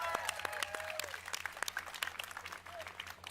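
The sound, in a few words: audience cheering and applause at EA Play E3 2019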